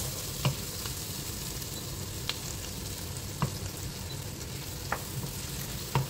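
Spicy fried pork stirred in a sizzling pan with chili, a steady loud frying hiss under periodic utensil scrapes and taps against the pan.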